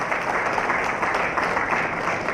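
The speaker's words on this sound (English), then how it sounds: "Please welcome both of them with a huge round of applause." A crowd at a Shimadzu launch event claps to welcome two brothers, a thick, continuous wash of applause holding steady throughout without voices.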